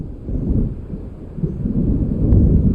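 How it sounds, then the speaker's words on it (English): Low rolling thunder from an approaching storm in the video game Alan Wake Remastered, a continuous deep rumble that swells toward the end, heard on its own with no voices. "It seems there's a storm coming."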